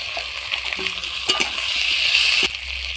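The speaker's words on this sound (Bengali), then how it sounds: "জিরে বাটা পেঁয়াজের বাটা একসাথে দিয়ে আমি কষিয়ে নেবো" Cumin paste and onion paste frying with vegetables in a pan, a soft steady sizzle with occasional clinks and scrapes of stirring, close and fairly quiet, no voices.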